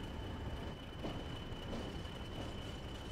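A diesel multiple unit pulls out of Leeds on the Northern Trans Pennine route in Train Sim World 3, giving a steady low rumble with a constant thin whine above it, fairly quiet and unbroken.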